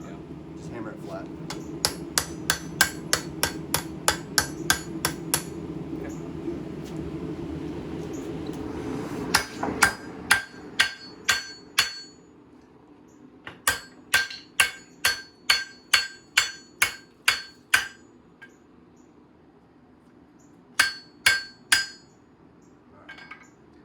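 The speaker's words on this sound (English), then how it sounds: "Just hammer it flat." A hammer pounds a knife blade flat in rapid bursts of sharp metallic strikes, many blows per run with short pauses between runs, loud and close over a steady background hum.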